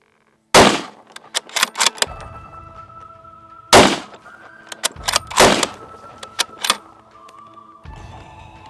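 Sako 90 rifle fired at a shooting range: two loud, sharp shots a few seconds apart, each followed by rolling echoes and smaller thumps and clatter, with a quieter rustle at the end.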